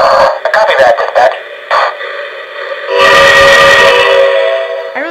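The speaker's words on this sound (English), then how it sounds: "I love this whistle. It's just awesome." A Rio Grande steam locomotive whistle blows in loud, close blasts: several short toots, then a long sustained shriek with a rich chord of tones, and a brief rising note at the end.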